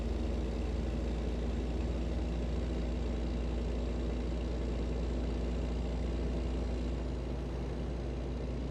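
Kenworth or Peterbilt sleeper semi truck hauling an excavator in a trucking game, with a steady low engine drone and road rumble droning evenly the whole time, no voices.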